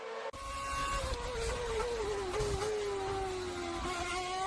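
A 2012 Ferrari Formula 1 car screams through a hot lap, its high-pitched engine wail holding a sustained tone that dips and climbs with gear changes, loud and close.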